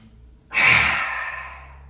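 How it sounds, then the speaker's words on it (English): A single forceful open-mouth exhale of the yoga lion's breath, tongue out, starting abruptly after a short quiet moment and fading as a long, breathy rush of air, close and loud. "we're going to finish it with some energizing lion's breath"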